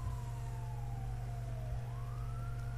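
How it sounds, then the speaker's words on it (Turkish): A wailing siren in The Punisher video game rises and falls steadily over a low, constant mechanical drone, heard at a moderate distance. "Aynen siren çalıyor."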